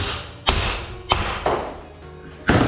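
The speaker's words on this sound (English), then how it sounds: "we're just gonna hit it here with a hammer until it's out" A hammer strikes an axle flange on a BMW E28's rear axle to drive it out, four sharp metallic blows spaced unevenly and close up, each ringing briefly over a quiet workshop hum.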